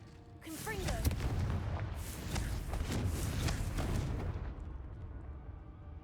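Confringo explosive spell blasts in Hogwarts Legacy, a run of booming, rumbling bursts layered over continuous combat noise for several seconds, loud and close, with no talk.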